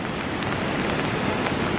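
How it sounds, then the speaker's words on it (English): Steady rain pours down in Lauterbrunnen, Switzerland, a dense, even hiss of drops with no voices, holding at the same level throughout. "It's still raining, but we're not worried about that."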